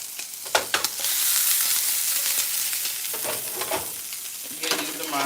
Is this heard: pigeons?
no